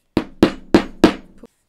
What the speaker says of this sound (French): Donc je peux mettre un petit coup de marteau.